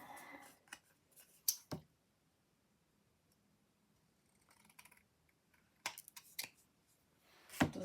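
Scissors trimming paper for a handmade travel foldout craft page, with a few short snips and crisp cuts in brief bursts separated by quiet pauses.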